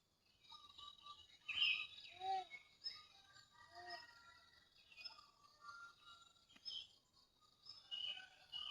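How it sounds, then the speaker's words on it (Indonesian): Many birds chirp and call in the morning around a quiet village, with overlapping high tweets and short calls scattered throughout, moderately faint with a soft background hum. "Banyak banget ya burungnya."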